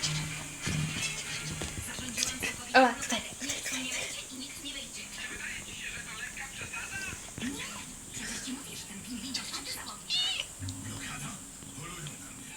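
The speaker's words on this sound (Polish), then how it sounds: "Biedny kot." A hungry, starving cat meowing, several plaintive meows scattered through a stretch of indoor noise, faint to moderate, with people talking nearby at times.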